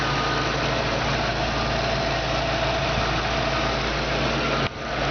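A 1966 Ford Mustang convertible engine idles steadily and close by, with a smooth, even rumble that cuts off abruptly near the end.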